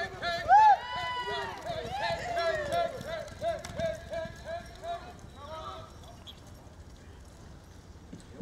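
Rhythmic hoofbeats of a grey mare running at a Brazilian horse-taming competition, heard under an announcer's voice over a loudspeaker, fading toward the end.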